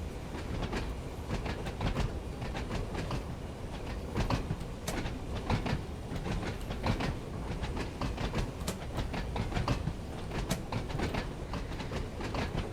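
Passenger train rolling along the Isle of Wight line in Train Sim World 5, a steady close rumble of wheels and carriage with repeated rail clicks and clacks throughout, no voices.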